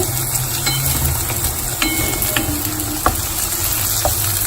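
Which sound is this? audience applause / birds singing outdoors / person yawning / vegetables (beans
vegetables (beans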